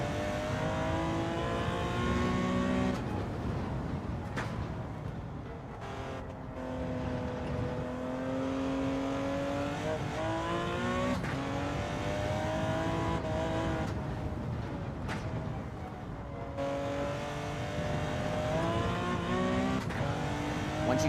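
A racing car's engine in a racing video game revs and drones steadily, pitch rising and falling through gear changes with brief dips between shifts, loud and continuous without talk.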